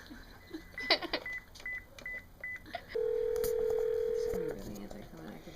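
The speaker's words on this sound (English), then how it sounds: "I can't even dial right." A telephone keypad dials a run of short, evenly spaced touch-tone beeps for a call to an SPCA, followed by one long steady tone, with a brief voice near the start.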